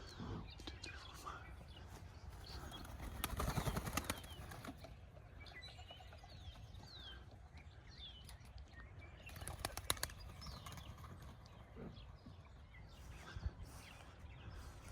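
A flock of birds takes off outdoors, wings flapping in several loud bursts amid faint chirps, with someone talking quietly nearby throughout.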